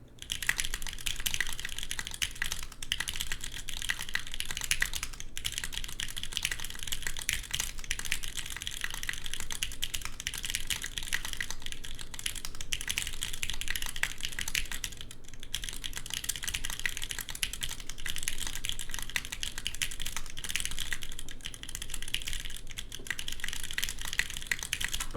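Typing on a GODSSON Geon F1-8X V2 gasket-mount mechanical keyboard: a steady, dense stream of crisp keystrokes with occasional louder spacebar thocks, close and continuous, with no talking.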